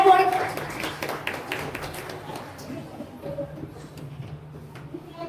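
Audience clapping for a rank holder at a school award ceremony at S.S.D Convent School, a burst of claps at the start that thins quickly into scattered taps beneath room noise and faint voices.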